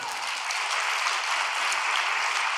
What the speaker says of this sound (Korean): 우리 감사의 박수 올립시다